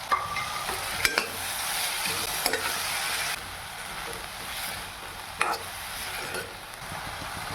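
Chopped fiddlehead fern greens and tomato fry in a pan of fish curry, a soft continuous sizzle broken by a few sharp stirring scrapes, fairly quiet and close, with no voices.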